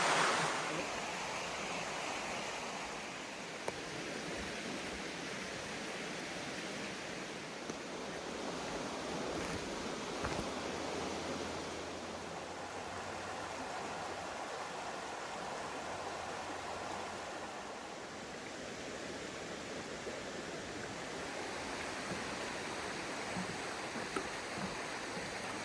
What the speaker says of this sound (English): As we cross Benner Run here, this is where it flows into Black Moshannon Creek.